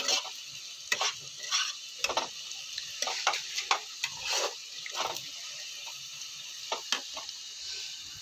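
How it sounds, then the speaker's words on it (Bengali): Onions fry in a pan until deep red for a biryani, giving a steady close sizzle broken by irregular scrapes and clinks as a utensil stirs them, with no voices. "তো দেখো আমি পেঁয়াজগুলো লাল লাল মতো করে একদম খুব ভেজে নিয়েছি"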